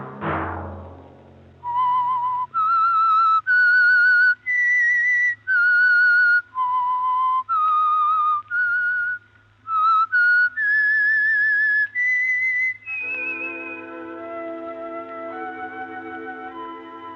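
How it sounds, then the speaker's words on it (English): The Whistler radio show's whistled theme signal, a loud solo melody of about a dozen clear, sustained notes, opens after a brief sound and then hands off to sustained orchestral chords at the end. "Let that whistle be your signal for the Signal Oil program, The Whistler, each Sunday night at this same time."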